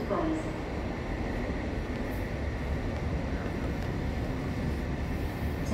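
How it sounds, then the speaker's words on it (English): An MTR metro train rolls into a station platform with a steady rumbling roar and wheel noise that fills the whole stretch, moderately loud and continuous. "The train to Wukaisha is arriving."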